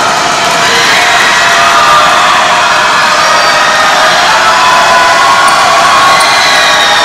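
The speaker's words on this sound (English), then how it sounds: "Crowd very loud" A packed gym roars through a high school basketball game between Valhalla and El Cajon Valley, a loud, steady wall of crowd cheering and shouting from start to finish.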